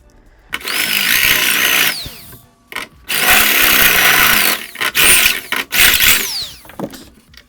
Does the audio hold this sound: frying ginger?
no